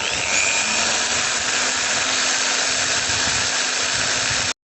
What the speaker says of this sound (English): just drilled through the pilot holes for the 16 screw points for the extractor